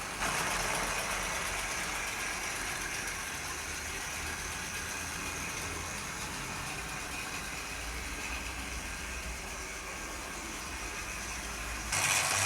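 Model Pacific steam locomotive running with a steady mechanical whir and faint hiss, holding an even level throughout before a slight rise in noise at the very end.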